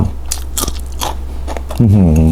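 Someone bites into a chili pepper while eating a Thai spicy salad of boiled cow's feet, a short series of close crisp crunches and chewing before a voice hums appreciatively.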